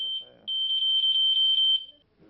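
A smoke detector in a restaurant kitchen sounds a shrill high-pitched tone, pulsing rapidly for about a second and a half, close and clear; a brief voice is heard just before it starts.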